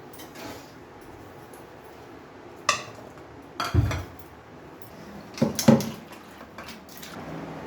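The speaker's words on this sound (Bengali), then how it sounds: "এখন আমরা আলুটা সবজি ফুলকপিটা ভালো করে ধুয়ে নিই" Cut potatoes and cauliflower are washed in a pot in a home kitchen, with a few distinct clanks and sloshing knocks of vegetables and metal spaced between quiet stretches, fairly close.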